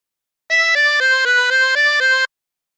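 A harmonica plays a short melodic phrase from Turkey in the Straw, seven clean reedy notes in an even rhythm, alone against silence.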